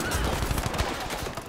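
Gunfire in the Battlefield 5 shooter on the Operation Underground map, a dense burst of rapid shots in close succession, loud and echoing in an enclosed space.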